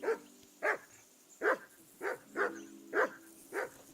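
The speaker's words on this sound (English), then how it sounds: "That barking was a pain in the ass." Dog barking in the video game Kingdom Come: Deliverance 2, a steady series of about seven loud, evenly spaced barks, one every half second or so, over a faint low hum.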